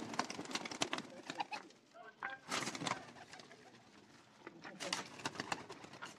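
Golden pigeons coo at a home loft, soft repeated calls and bird sounds mixed with shuffling and background voices, fairly close and moderate in level.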